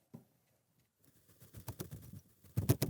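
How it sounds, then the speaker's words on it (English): A bird's wings flap in a few soft, rapid bursts that grow louder toward the end, close by with no talking over them. "that sounds just like a bird flapping its wings."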